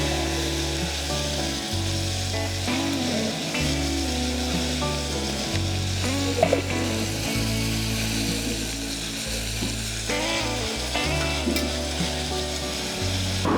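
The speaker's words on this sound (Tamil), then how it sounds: "அடுத்து வெங்காயம், வெங்காயம் வதங்கும் போதே" Onions sizzle steadily in a hot pan for a mushroom biryani made with barnyard millet, with occasional scraping and stirring over a continuous fry, loud and close with no talking.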